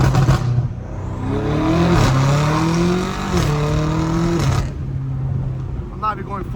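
650hp BMW M5 Competition accelerating on a street, engine note climbing through gears with a shift near the middle, heard from inside the car, while a person talks over it before it settles back.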